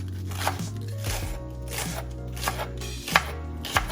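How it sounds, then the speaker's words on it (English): A knife chops green onion on a cutting board, a series of crisp, close taps falling at an uneven pace with a low steady hum behind them. "I'm just gonna cut up the green onion."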